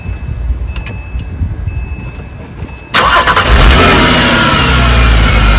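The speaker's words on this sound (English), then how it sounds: "Start the engine." Porsche Cayman 987 engine cranking and firing up after a power steering pump replacement, with a quiet ticking lead-in, then a sudden loud catch and a revving climb settling into a steady, close roar.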